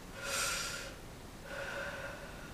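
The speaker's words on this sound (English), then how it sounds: "Let's take a breathe." A deep breath is drawn in, a soft airy inhale followed by a second, fainter breath, close and quiet with no talking.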